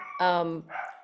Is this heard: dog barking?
yes